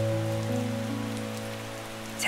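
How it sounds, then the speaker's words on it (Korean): Steady rain falls on a surface under soft, sustained musical tones, with no one speaking, for a calm meditation setting. "빗소리를 들으며"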